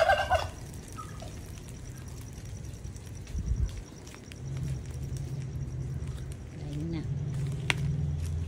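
Turkeys gobble on a farm kept for their eggs, with a steady background of farm noise and scattered footsteps and knocks, while a person talks nearby.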